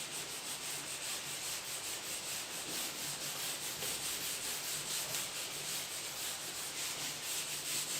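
A steady, continuous rubbing and scraping as writing is wiped off a classroom board, close and even for several seconds with no voices.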